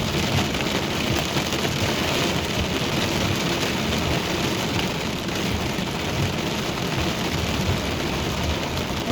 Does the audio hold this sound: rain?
yes